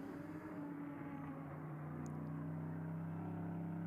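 GT race cars drive on the track at Magny-Cours, a steady engine drone that builds gradually and stays fairly distant throughout, with no talk.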